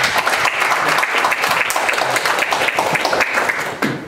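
Applause fills a boxing press conference hall held in an alumni association building, a dense, loud burst of many hands clapping that runs steadily throughout, with faint talk beneath it.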